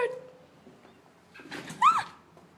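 Bird trapped inside a house, a faint flutter followed by a short cooing call, with quiet room sound between.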